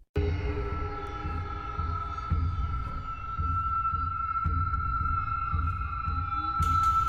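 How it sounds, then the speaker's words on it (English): A low, rhythmic pulsing hum in the woods throbs steadily with a faint, sustained tone above it, quiet and distant, with soft periodic thumps and no voices. "It was a low, rhythmic hum, almost like a distant engine, but with an unsettling, organic quality to it."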